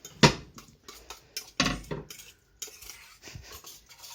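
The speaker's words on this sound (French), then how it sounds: "Je mélange le tout." Spoon mixing wet cat food in a bowl, with a few loud metallic clinks and scrapes against the dish followed by softer intermittent stirring, close up and without talk.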